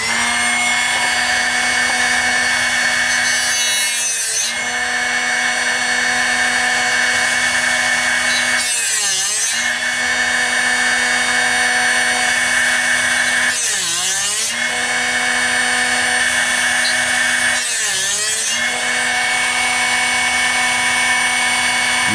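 A power drill with a diamond bit whines steadily with a high, constant tone, broken four times by loud, rasping bursts as the bit grinds into hard material. No voices.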